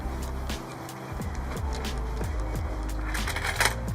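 A motorhome awning is wound in by hand, giving repeated low rhythmic ratcheting and creaking strokes over a faint background hiss, close and moderately quiet.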